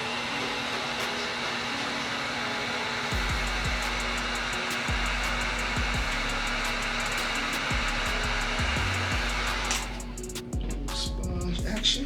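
A hair dryer or heat gun warms a vinyl skin being applied to a Glock 19 magazine, giving a steady close whirring drone that holds for about ten seconds before its airflow noise shifts and sputters.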